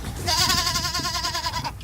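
A single long, wavering goat bleat, loud and close, trembling steadily for over a second against a low background murmur.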